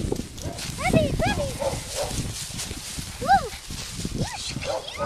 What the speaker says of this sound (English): Here, pups. Come here. Good puppy. Good puppies.